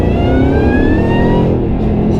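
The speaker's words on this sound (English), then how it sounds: "That exhaust sounds incredible." A modified supercharged Shelby GT500 making roughly 663 wheel horsepower roars loudly and close, its exhaust droning steadily while a rising whine sweeps upward over the engine note.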